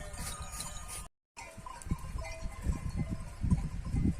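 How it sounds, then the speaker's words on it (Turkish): Flock of sheep being let out to graze on partly snowy village pastures, a busy mix of bleats, bell clinks and movement close by, with a short gap of silence near the start. "bugün koyunları saldım"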